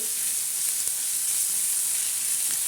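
Garlic, green chilies and raw peanuts roasting for thecha give off a steady, close sizzle and hiss, an even frying crackle that runs unbroken with no talk over it.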